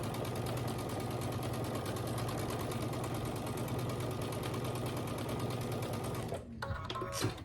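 A sewing machine stitches a quarter-inch seam across a scrappy star quilt, running with a steady fast mechanical whir close to the microphone before it stops briefly and clicks near the end.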